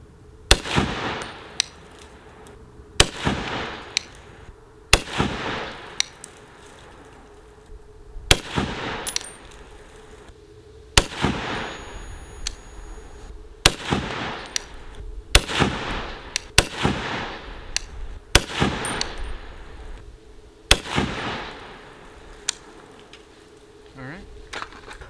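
Repeated loud gunshots from a PSA Gen3 PA10 18-inch .308 battle rifle with a Geissele two-stage trigger, about a dozen sharp cracks spaced a second or two apart at an outdoor range, with voices murmuring between shots.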